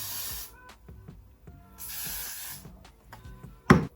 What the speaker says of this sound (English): Can spray it a little.